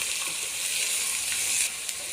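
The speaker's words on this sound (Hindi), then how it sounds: "अब हम इसको भूनेंगे।" Cauliflower with green fenugreek leaves fries in hot oil, giving a steady, close, dense sizzle that crackles continuously with no voices.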